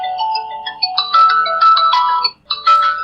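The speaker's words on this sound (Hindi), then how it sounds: "आप सुन सकते हो, ये वाला रिंगटोन बजेगा" A Cult Ranger XR Ultra smartwatch plays its Find My Watch ringtone, a loud, close electronic melody of bright stepped tones with a brief gap before it starts again.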